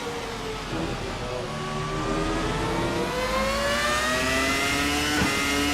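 Formula RSS 2000 race car in a VR racing sim, engine revving with rising gear whine and sweeping pitch, downshifts blipping the throttle, loud and close without talk.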